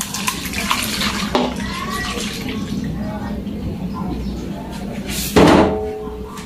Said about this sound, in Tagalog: ilagay natin yung pangalawang piga ng nyog